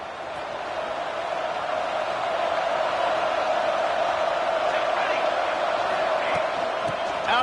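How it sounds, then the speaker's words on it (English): Steady stadium crowd roar from a college football video game, Oregon at Maryland, loud and sustained throughout with a broad wash of noise building slightly as the place rocks, no clear talk over it. "with this place rocking, the crowd forces a false start"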